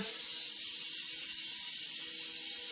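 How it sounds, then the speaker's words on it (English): A steady, continuous high hiss of spray, even and unbroken for a few seconds, close and fairly quiet with no other sounds. "I got spray here."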